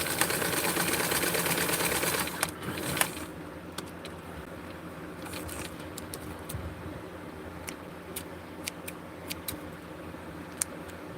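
A sewing machine stitches fabric for a Skipper doll outfit. A close, continuous mechanical whir runs for about two and a half seconds, then stops, leaving scattered faint clicks and ticks over a quiet room.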